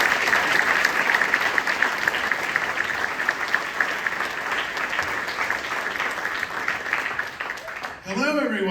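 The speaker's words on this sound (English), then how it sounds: "so give them a round of applause" A crowd applauds at a Give Kids The World Village event to welcome Tony Baxter and Jason Sorrell, a dense and loud wash of clapping that holds steady, then thins and gives way to a voice at the very end.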